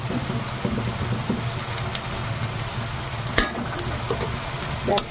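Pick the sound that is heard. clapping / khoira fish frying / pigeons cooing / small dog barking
khoira fish frying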